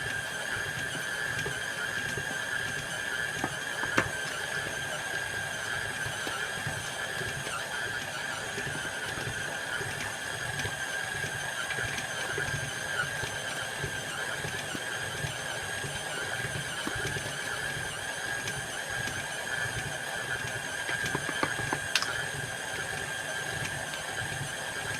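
A mixer machine strains as it kneads stiff cinnamon bun dough, giving a steady, close motor whir with a thin high whine that holds for the whole stretch with no talking.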